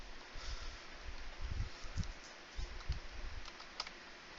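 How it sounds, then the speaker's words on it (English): A deck of game cards for a Lord of the Rings card game being shuffled by hand, soft quick riffling and tapping bursts, quiet and close, with no talk. "We'll give that a shuffle."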